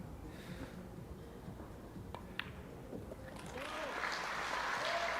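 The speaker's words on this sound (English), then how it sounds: "Hear the cheer, and quite rightly so." Crowd at a US Open pool match breaks into cheering and applause, a steady broadband wash of clapping that swells louder in the final seconds.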